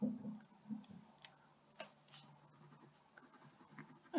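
A Pilot P700 pen scratches across paper in short, faint strokes with small ticks between them, quiet and close with no voice.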